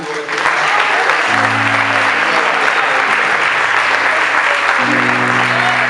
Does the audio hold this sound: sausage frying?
no